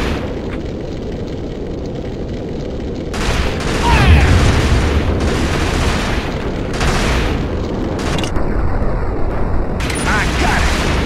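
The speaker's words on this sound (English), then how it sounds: "Can take out that tank with C4." A C4 explosion destroys a tank in Killzone: Liberation on PSP: a loud low boom lands around the middle of a continuous roar of battle noise, with a few sharper bursts afterward.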